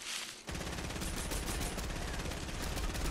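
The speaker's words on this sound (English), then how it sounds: "Someone else is shooting him." Video game gunfire rattles almost without a break in rapid, loud automatic bursts that carry on after a brief quiet opening.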